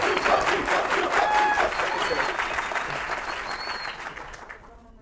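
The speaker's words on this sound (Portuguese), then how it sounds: "Aplausos e mais aplausos!" An audience at a Brazilian political party affiliation event applauds with dense, loud clapping that gradually thins and fades out toward the end.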